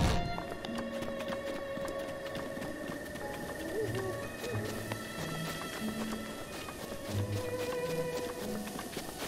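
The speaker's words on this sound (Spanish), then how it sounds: "Oh, y un caballo." Horse hooves clip-clopping in the video game Zelda: Breath of the Wild, a faint steady run of soft beats under light game music and a quiet voice.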